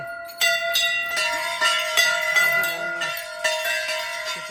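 Many temple bells clang and ring out together, overlapping metallic strikes repeating every half second or so, loud and resonant with a sustained ringing tone.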